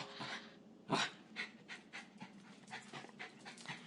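A dog panting close by in quick rhythmic breaths, faint, with soft huffs repeating for several seconds and no other sound.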